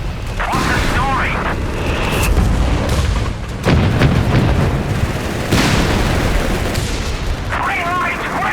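Artillery rounds land in a Company of Heroes 3 battle: loud, dense booms and crackling blasts that repeat over several seconds, with faint whistling tones and shouted battlefield voices mixed in.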